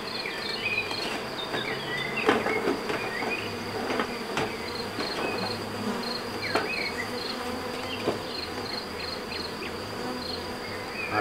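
Honey bees hum steadily around a beehive at a small apiary, a dense continuous buzz close to the microphone, with scattered clicks and taps on the hive and no talking.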